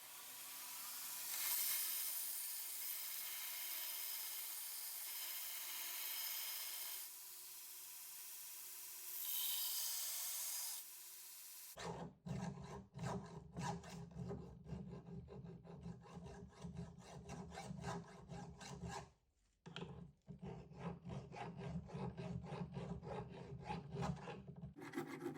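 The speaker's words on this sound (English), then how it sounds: "I'm just gonna go in and thin the tang out a little bit and rough this in. I'll take a file and finish it up" Steel tang of a puukko knife worked by hand; a hissing grind opens, then rhythmic rasping file strokes on the steel, close and steady with one brief pause.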